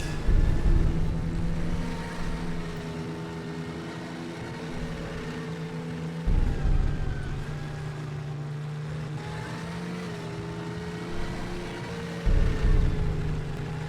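A model Centurion tank drives on its new drivetrain, a steady whining electric motor hum with gear drone, the pitch shifting slightly and a few louder surges as it moves.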